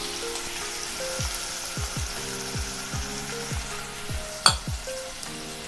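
Finely chopped onion with a pinch of salt sautéing in a pan with black pepper, cardamom, cinnamon, cloves and bay leaf for chicken keema pav, a steady low sizzle with crackles and one sharp clatter near the end.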